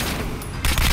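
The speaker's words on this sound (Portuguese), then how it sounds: "é a metralhadora" Machine gun fire in the video game Metro Last Light, a short dense burst of rapid booming shots that swells louder near the end of a one-second stretch.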